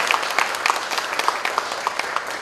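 Audience applause at a Chung-Ang University welcome meeting for incoming freshmen and their parents, as officials are introduced; steady, dense clapping from a crowd fills the room throughout with no talk over it.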